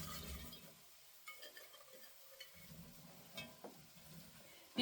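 Fruit for an old-fashioned pioneer-style dessert gets a quick stir in a bowl, giving soft, faint scraping and a few light clinks, quiet and close, with no talk.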